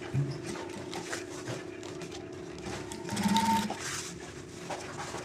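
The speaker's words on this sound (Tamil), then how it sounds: "இந்த மாதிரி ஸ்டிச் பண்ணி எடுத்துக்க வேண்டியதுதான்." A sewing machine stitches a jute bag in steady running bursts, close and clear, with a brief louder stretch midway and no talk over it.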